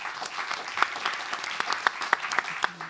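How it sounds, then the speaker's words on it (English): Conference audience applauding after a talk, a dense patter of many hands clapping at moderate volume, with a few sharper claps standing out and a brief voice near the end. "A little round of applause for."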